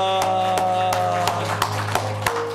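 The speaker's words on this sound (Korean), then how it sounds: "우리 하나님께 영광의 박수 올려드립니다." Congregation clapping at a Korean church Sunday worship service, a rhythmic series of evenly spaced claps in unison over sustained organ or keyboard chords.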